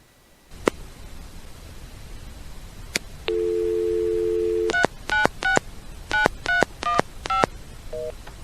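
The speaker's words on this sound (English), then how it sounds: "Here I am dialing the payphone number and then immediately getting a busy signal." DTMF keypad tones from a Northern Telecom Centurion pay phone as a number is dialed, a steady dial tone first, then a quick rhythmic run of about eight crisp, loud beeps, ending with a faint lower tone.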